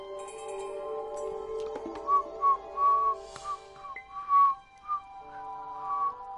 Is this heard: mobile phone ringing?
no